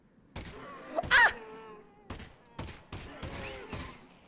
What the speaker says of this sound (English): I'm gonna shoot your leg. I shot your leg.